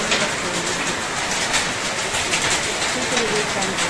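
Hailstones falling in a hailstorm make a dense, steady rattling patter that stays loud and constant from start to finish.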